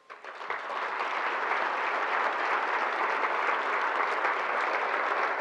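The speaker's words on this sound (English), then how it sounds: "Let us close tonight by giving our final applause to these fine public servants" Sustained applause from a large audience at a mayor's State of the City address swells within the first second and then holds steady and dense, with no voices over it.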